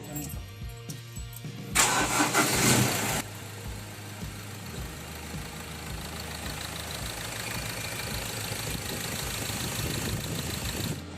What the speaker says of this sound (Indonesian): Kita start engine, top up gas.